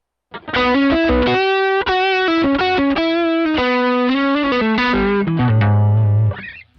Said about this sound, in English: you could hear that the drive just got a little more intense because I'm pushing the front of this pedal